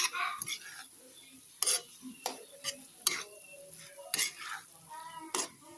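Bamboo shoot filling is stirred in a pan. A soft background sizzle sits under sharp, irregular clacks of a utensil against the pan.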